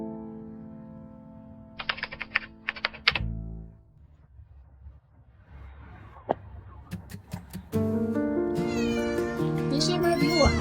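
A stray cat meows repeatedly at close range, its calls bunched toward the end over a steady hum, with scattered clicks and taps just before.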